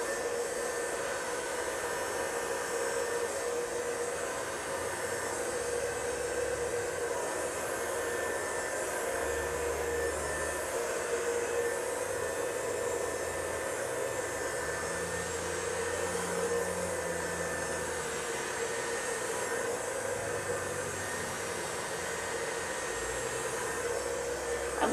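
A hair dryer fitted with a concentrator nozzle blows steadily while blow-drying hair, a constant close rushing whoosh that barely changes in pitch or loudness.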